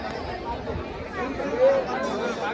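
Crowd chatter inside the busy Dwarkadhish temple in Gujarat, a steady murmur of many overlapping voices at moderate level with a brief louder call near the end.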